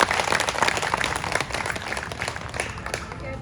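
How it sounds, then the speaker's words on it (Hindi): Loud, dense applause from an audience at a BJP political gathering in Surat, a steady wash of many hands clapping close by for the whole stretch, with a faint voice briefly audible underneath. "उनके लिए एक बार जोरदार तालियां।"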